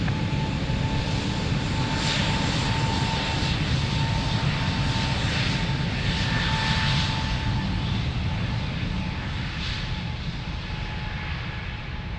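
A loud, steady airliner engine roar holds throughout at Lisbon Airport as the jet takes off, with a faint radio voice briefly audible beneath the engines.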